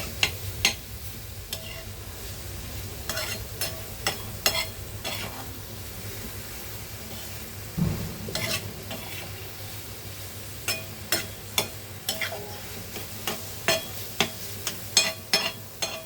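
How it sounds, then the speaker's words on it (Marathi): Spices stirred in a cooking pan for a fish curry, a soft continuous sizzle broken by a long series of sharp, close spoon scrapes and taps against the pan, irregular at first and quickening toward the end, without speech. "आपले मसाले ना मस्त ह्याच्यात असे मिक्स करून घेऊया"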